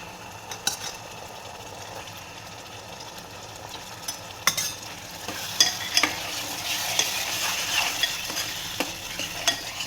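Mashed pav bhaji vegetables tipped into a hot frying pan and stirred, a steady sizzle growing louder with scraping spatula strokes and soft clinks, close and without talk.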